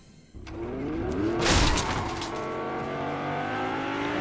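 Engine of a vehicle in the Fortnite video game revving and pulling away, a rising and falling motor tone with a brief loud burst midway, steady and fairly close with no talk.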